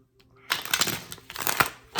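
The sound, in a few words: shuffling tarot cards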